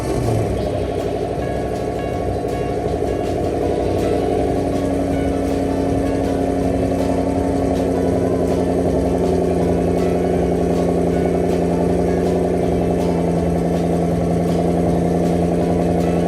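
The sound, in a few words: Ford Mustang engine running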